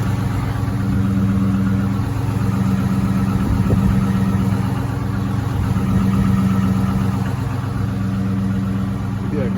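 A Chrysler 300 on 24-inch Rucci wheels with a muffler delete idles after a cold start in freezing weather, a loud, steady, throaty rumble throughout, with a faint voice briefly underneath.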